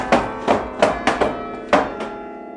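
A bell clavier mechanism inside a college steeple clacks and bangs, giving six sharp, resonant knocks at irregular intervals with a short ringing tail after each.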